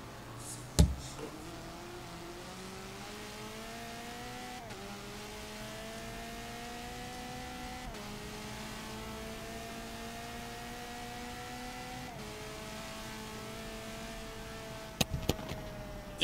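Race car at Sonoma Raceway in a racing video game, engine revs climbing repeatedly through the gears with short drops at each shift, fairly faint and steady, with a couple of sharp clicks near the start and end.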